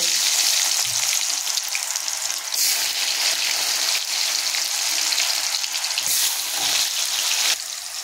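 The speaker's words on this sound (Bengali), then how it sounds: "তো আলুগুলো তেলে দিয়ে দিয়েছি। এবার এটাকে নাড়াচাড়া করে নেব একটু।" Potatoes frying in hot white oil in a wok give a loud, continuous sizzling hiss, rising in bursts as they are stirred, with no talking.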